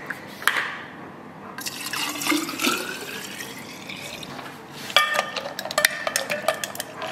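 Drink powder mixed into water in a Lululemon water bottle, with close sloshing, dripping and splashing liquid sounds, some sharp plastic clicks and rattles, no talk.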